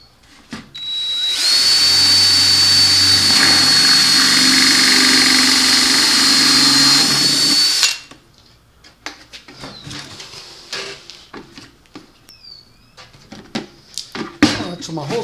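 Power drill boring a 1.5-inch hole into a wooden quail hutch, one steady loud whine lasting about six seconds before cutting off, followed by quieter clicks and handling noises.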